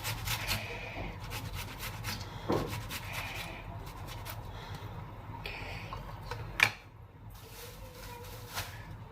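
Tomatoes rubbed against a kitchen grater make a soft, continuous rasping with a few sharper knocks, quiet and close in a home kitchen, with no talking.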